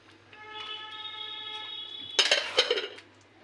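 Vermicelli custard with dry fruits stirred in a pan, a few sharp metallic scrapes and clinks of a spoon against the pan in a short burst near the end, following a faint tonal hum.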